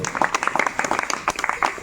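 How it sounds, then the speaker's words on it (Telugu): A church congregation at a Lord's Supper service claps loudly in a quick, uneven burst of many hands, with a voice speaking over the clapping. "గట్టిగా చప్పట్లు కొట్టు"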